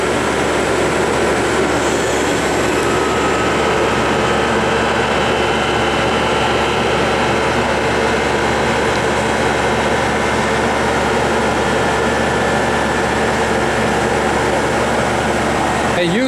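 An ENI OEM-1250 RF power generator runs at its full 1250 watts, giving off a loud, steady whirring hum with a constant tone that holds unchanged throughout.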